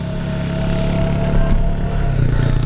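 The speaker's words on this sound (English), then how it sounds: "The kids absolutely love riding the four-wheeler with grandma." A four-wheeler ATV engine running close by on a rural property, a steady loud motor drone with slight rising revs throughout.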